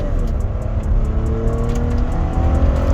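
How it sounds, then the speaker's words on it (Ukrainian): A 2015 Toyota Venza XLE with the 3.5-litre engine and automatic transmission pulls away from a standstill in sport mode, its engine droning steadily and rising in pitch through the gears, loud and continuous from inside the cabin. "Спорт режим, так в нас буде 4 передачі, рушаємо з місця."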